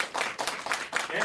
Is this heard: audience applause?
yes